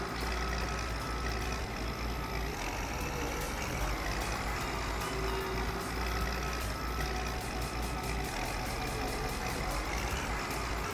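A vehicle engine drones steadily in Farm Expert 2017 as its tyres spin slightly, a constant low rumble with a faint repeating high ticking, unbroken and without talk.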